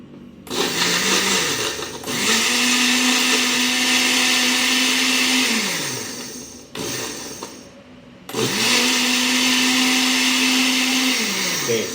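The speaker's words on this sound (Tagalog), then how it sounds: "Okay? I-blend natin." A kitchen blender whirring through a marinade sauce for Filipino lechon manok, loud and close in three runs: a short pulse, a long steady spin that winds down, and another sustained burst, with no talk.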